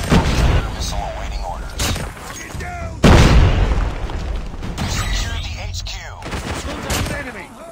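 Airstrike explosions and gunfire in COD Mobile, with sharp booms at the start and a large blast midway, layered under chaotic battle noise and game voice lines.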